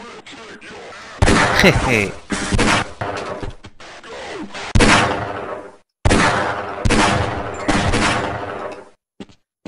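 Magnum revolver fire in the first-person shooter Half-Life: Blue Shift, several loud, sharp broadband shots spaced irregularly amid other game action, with someone talking briefly over it.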